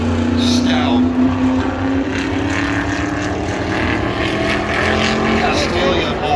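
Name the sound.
big block super modified race car engine during qualifying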